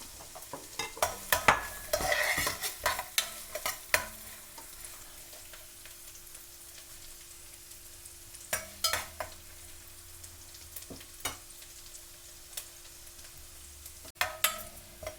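Garlic and green chilies fry in oil with a steady close sizzle, broken by repeated sharp scrapes and clinks of a spoon stirring in the pan.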